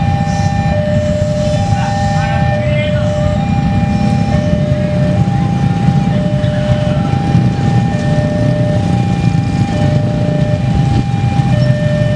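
The Kertajaya passenger train with 14 premium coaches rumbles past at close range at Bekasi station, loud and continuous, with a steady high whine riding over the roar of the wheels.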